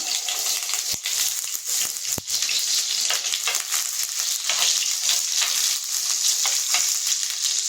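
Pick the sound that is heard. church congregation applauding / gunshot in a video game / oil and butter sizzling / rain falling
oil and butter sizzling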